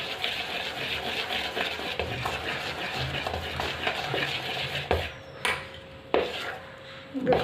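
Cake batter being stirred by hand in a metal pot for an eggless vanilla cake, a steady scraping swirl that runs continuously, with a few sharper knocks against the pot near the end.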